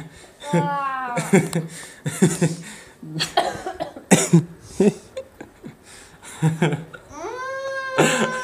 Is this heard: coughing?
yes